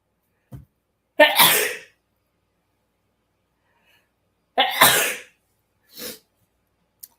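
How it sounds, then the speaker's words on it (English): A sharp, close sneeze bursts out, then after a quiet gap a second loud sneeze, followed by a smaller sniff or exhale. "hold on, I got to sneeze"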